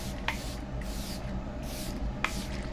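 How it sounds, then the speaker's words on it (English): Charlotte Tilbury Airbrush Flawless Setting Spray is misted onto a made-up face in a few short, close pumps, each a crisp hissing burst over a steady low background hum. "I'm gonna take my Charlotte Tilbury Airbrush Flawless Setting Spray"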